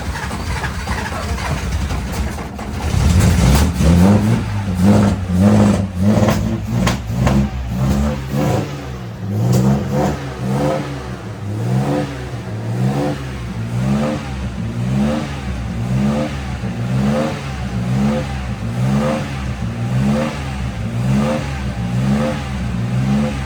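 An Austin Healey 3000 engine, a long-stored barn find, starts up and revs repeatedly on the throttle, loud and close, with rhythmic rises and falls in pitch.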